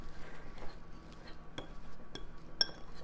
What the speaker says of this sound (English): the first thing to do is to mash up your old mushy bad bananas